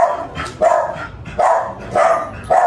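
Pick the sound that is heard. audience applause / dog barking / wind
dog barking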